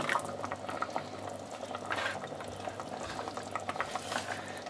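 Carrots and celery poured into a pot of simmering tomato vegetable soup, a soft bubbling and splashing with light stirring noises, close and moderately quiet, no talking.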